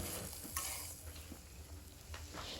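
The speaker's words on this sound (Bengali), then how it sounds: "দিয়ে দিচ্ছি পরিমাণ মতো লবণ দিয়ে ভালো করে আবারও মিশিয়ে নিচ্ছি" Coriander leaves and salt are stirred into a chilli chop filling in a pan, giving soft, faint scraping and sizzling with a few light utensil taps.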